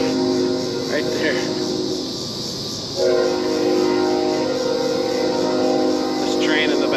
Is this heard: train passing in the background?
yes